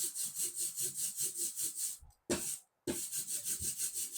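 A linocut print of a sea star being pulled, paper rubbed across the inked block in steady rhythmic strokes, close and clear, with a brief pause and a sharp peel near the end before rubbing resumes.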